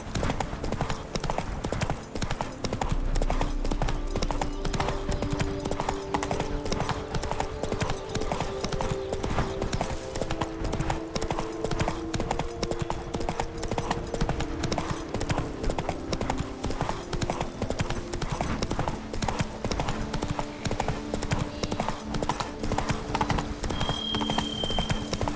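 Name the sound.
horse Roach galloping, from video game Witcher 3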